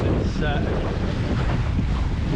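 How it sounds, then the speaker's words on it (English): A wind gust while sailing a dinghy comes through as a loud, continuous roar of rushing air buffeting the microphone, with water and boat noise blended underneath. "just picked up a gust"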